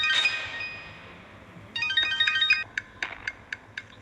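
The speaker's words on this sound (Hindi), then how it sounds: "उसके मोबाइल पर विक्रम का फोन आया" A soft electronic phone ringtone plays a bright melodic phrase, pauses, then repeats with short chiming notes, fairly quiet and without talk.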